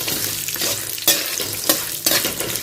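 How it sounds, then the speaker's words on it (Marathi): Shelled peanuts roast in hot oil for a wheat puffed-rice chivda, giving a steady close sizzle broken by a few louder scraping stirs of the spoon in the pan, with no talking. "आता शेंगदाणे छान तेलात भाजून घेऊया."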